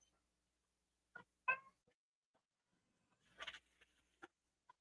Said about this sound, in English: I apologize for the loud ass cat in the background